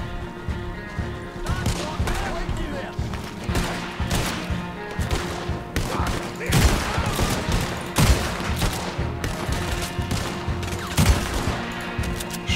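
Revolver shots crack out in the video game Red Dead Redemption 2, a rapid, dense barrage of repeated loud gunfire bursts throughout, amid chaotic in-game action.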